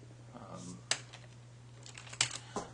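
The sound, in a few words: typing on a Mac computer keyboard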